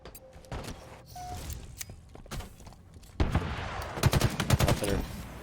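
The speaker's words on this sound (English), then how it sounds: "Where's the shooting from?" Rapid bursts of video game gunfire, with automatic weapon fire and single shots crackling loudly and close in the second half after quieter shooting and footsteps earlier.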